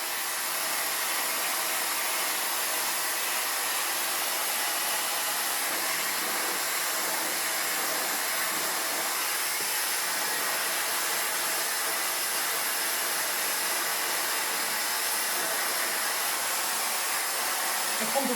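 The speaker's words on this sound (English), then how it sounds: "I'm gonna blow dry her hair" A hair dryer blows steadily and loudly at close range while hair is blow-dried with a medium-large brush, starting at the neckline, a constant airy roar with no pauses.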